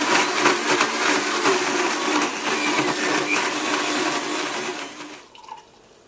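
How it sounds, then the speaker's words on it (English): A loud, steady blender whirs on high for about five seconds blending a strawberry milk smoothie, then cuts off, leaving a quieter fading rattle. "Just blend this on high until it's smooth-delicious."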